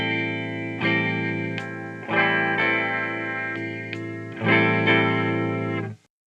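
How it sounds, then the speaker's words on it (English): Clean electric guitar, a Les Paul copy played with a fuzz pedal bypassed through the clean channel of a homebuilt 50-watt two-channel amp, strummed chords ringing out in three sustained phrases, close and without talk. "I have the pedal in bypass mode now so you can hear my guitar clean."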